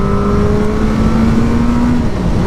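Loud, close engine of a new motorbike pulling in second gear, the tone rising steadily for two seconds then easing as the next shift comes.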